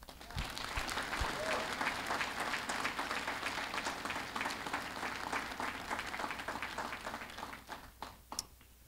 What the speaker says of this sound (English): let's just give a big applause to those that supported us, those that came with us, and those that are watching us online